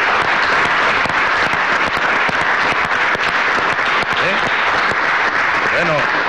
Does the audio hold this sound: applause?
yes